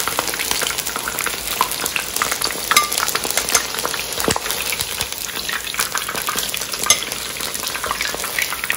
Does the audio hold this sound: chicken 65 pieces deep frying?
yes